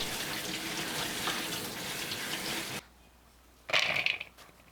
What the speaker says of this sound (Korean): 감자를 흐르는 물에 헹궈냅니다